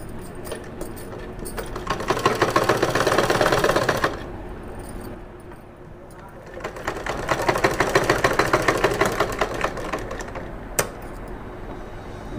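Domestic sewing machine stitching the folded shoulder seam of a baby frock, two sustained bursts of rapid mechanical chatter separated by a quieter pause, close and fairly loud with no talking.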